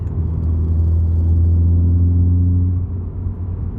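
A 2013-2018 Ford Focus ST fitted with a 3-inch stainless COBB cat-back exhaust cruises along, its deep, steady low rumble holding loud and close with a smooth drone that eases slightly near the end.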